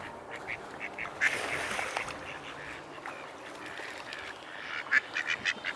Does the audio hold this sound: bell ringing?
no